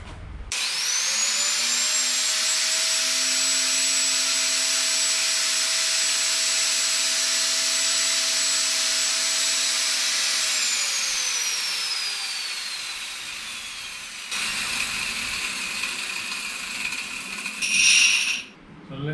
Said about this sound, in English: etched, ground the radius that I needed onto this disc.